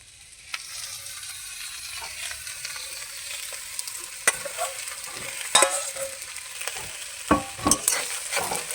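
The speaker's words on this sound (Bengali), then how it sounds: "সবজির সঙ্গে বেগুনগুলোকে আমি মিশিয়ে নিয়েছি" Fried eggplant being stirred into a pan of cooking vegetables, a steady soft sizzle with scraping spoon strokes and a few sharper clinks. No one talks.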